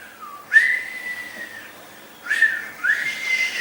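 A person whistles two sustained rising-and-falling tones, pausing briefly between them, fairly close and clear with no talking, at a shepherds' evening gathering.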